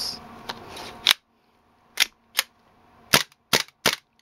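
A Tokyo Marui Colt Government M1911A1 gas airsoft pistol, loaded with gas but no BB pellets, fires six sharp snapping shots at uneven intervals, close and loud, with silence between them.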